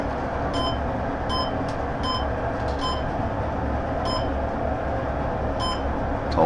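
Machine emitting short high beeps in irregular pairs and singles over a constant low rumble of machinery.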